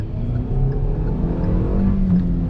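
A 2023 Hyundai Grand i10 Nios facelift hatchback pulls hard through the gears from inside the cabin, its engine droning steadily with pitch climbing toward high revs, loud and continuous with no talk.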